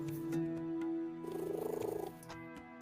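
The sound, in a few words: cat purring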